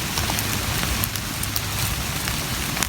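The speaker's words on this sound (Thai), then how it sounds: "ต้องเปียกฝน" Steady rain falls on a damp forest floor during a porcini mushroom forage, a continuous close patter with occasional sharper drops and no voices.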